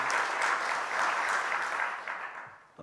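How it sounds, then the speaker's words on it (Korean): A church congregation applauds steadily for nearly three seconds, a dense, moderately distant clapping that eases off toward the end. "우리 한번 이분들 위해서 다시 한번 큰 박수 한번 날까요?"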